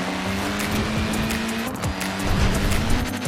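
Tiny tires on a Mini squeal in Forza Horizon 4 over a steady engine drone, the screech wavering continuously for a few seconds, loud and close.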